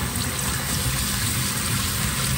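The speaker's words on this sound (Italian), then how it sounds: "Prendo 200 grammi di riso basmati e lo sciacquo." Running water rinses 200 grams of basmati rice in a home kitchen, a steady, fairly loud wash of flowing and splashing liquid with no talk.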